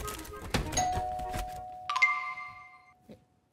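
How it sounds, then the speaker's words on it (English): A doorbell rings with a clear ding-dong, two bright sustained chime tones that follow some earlier clattering and thumping, then fade into near silence. "Is that the bell?"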